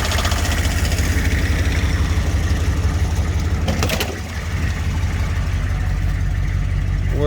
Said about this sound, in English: Sounds like the vacuum pump's making